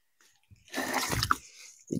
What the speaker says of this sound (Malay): Kita bilas dulu dengan air bagi dia hilang dia punya debu dia tu.